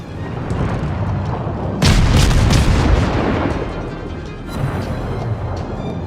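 Deck guns of the destroyer USS Wickes firing in World of Warships, a loud booming salvo with rumbling low end and a second, softer volley a few seconds later over constant engine and sea noise.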